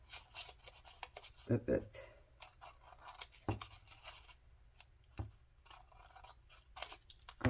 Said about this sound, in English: I just need to cut this off